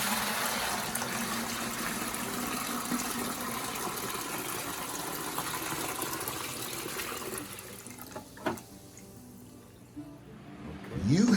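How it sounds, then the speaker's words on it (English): Around three gallons of water poured out of a 5-gallon dehumidifier collection bucket, a steady close splashing stream that thins out and stops near the end, followed by a few faint knocks. "So I'm going to go ahead and pour that out now."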